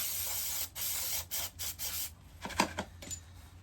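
Brake cleaner hisses from an aerosol can onto rusted Triumph Bonneville motorcycle brake pads in a tub, in several loud close bursts with short pauses, followed by softer rubbing and clicking handling sounds.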